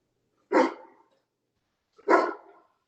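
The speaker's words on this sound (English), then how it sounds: "I hear somebody's dog too" A dog barks twice, a couple of seconds apart, each bark short and moderately loud against silence.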